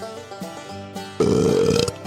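A loud, wet belch erupts suddenly partway through and rumbles on for under a second, standing alone after a quieter stretch of faint sounds.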